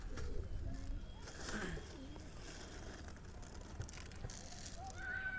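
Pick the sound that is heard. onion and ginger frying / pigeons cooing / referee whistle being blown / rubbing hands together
pigeons cooing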